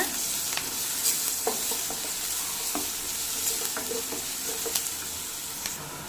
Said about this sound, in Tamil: நம்ம எடுத்து வச்சுருக்கிற இஞ்சி பூண்டு பேஸ்ட்டை இது கூட ஆட் பண்ணி இதையும் நல்லா கிளறி விட்டுக்கலாம்